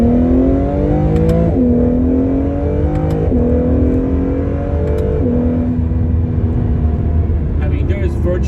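A 2022 Acura NSX Type-S engine climbs in pitch through several gears, each rising pull broken by a quick, sharp drop at the shift, loud and close throughout.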